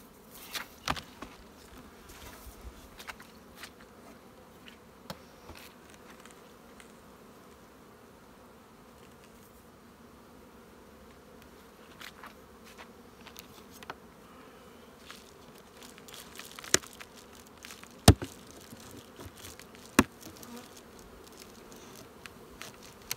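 Honeybees buzz steadily around an open hive during a spring inspection, a soft continuous drone with occasional sharp knocks and clicks of handling nearby.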